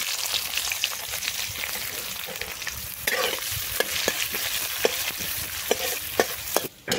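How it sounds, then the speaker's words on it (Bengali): Sliced onion frying in a pan with dried red chilli and cumin for a Bengali jackfruit-and-prawn curry, giving a steady close sizzle broken by repeated scraping and clicking stirs. "আমরা পেঁয়াজটা দিয়ে দেবো।"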